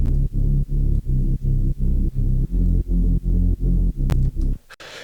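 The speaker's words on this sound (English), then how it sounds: "So here we have the Reese bass, and sounds like this." A simple saw-wave Reese bass synth preset for speed garage pulses in a regular, loud, rhythmic pattern of thick, buzzing low chords, about a dozen even stabs, alone and close, ending with a short click and a quieter tail.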